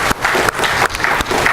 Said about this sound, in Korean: 여러분, 하나님께 영광을 돌릴 수 있는 박수를 한번 올려드리기 바랍니다